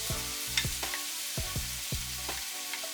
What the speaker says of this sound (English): once you get the rice in, you mix it all together